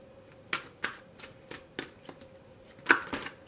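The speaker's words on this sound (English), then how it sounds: "I'm going to pull a couple of oracle cards for you first, just to get like an overall energy." Oracle cards being shuffled by hand during a tarot reading, heard as a series of crisp riffling snaps at irregular intervals, close and clear over a faint steady hum.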